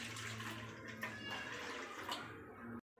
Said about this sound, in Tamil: 1/4 லிட்டர் தண்ணி சேர்த்துக்கலாம்.